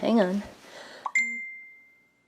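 A mobile phone notification rings once as a bright, clear chime right after someone finishes talking, then rings out alone and fades over about a second.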